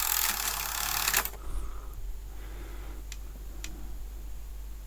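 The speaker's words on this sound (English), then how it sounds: "Okay, so I'll press eject." Sony SL-RC9 video recorder ejecting a tape: a loud mechanical whir stops sharply, followed by a clunk and a couple of faint clicks from the tape mechanism, with a steady hum beneath.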